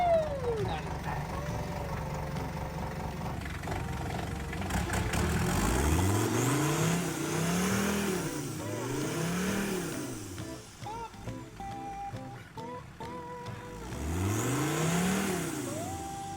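A Mini Cooper engine, just repaired after an alternator fix, whirs and starts up, then revs up and down several times in rising and falling sweeps, heard close and loud with no talk over it.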